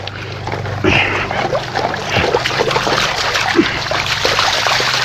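Gold pan, a Gold Claw production pan, shaken side to side in a creek, giving close sloshing, splashes and trickling water with gravel shifting, under a steady rushing water background.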